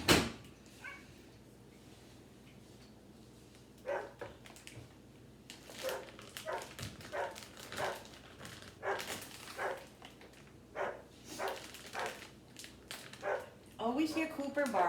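A dog barks repeatedly in short bursts in a home kitchen, the barks spread through the clip at moderate loudness, with some household clatter and a person talking in places.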